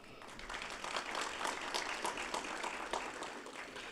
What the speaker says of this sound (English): There's a whole team behind this conference, so round of applause for them, please.